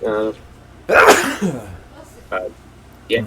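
A single loud, sharp sneeze bursts out close by, preceded and followed by brief conversational talk between podcast hosts.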